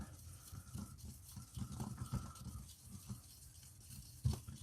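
Pigment stirred into water-based resin, soft close scraping and swirling strokes in an uneven rhythm, with a sharper knock near the end.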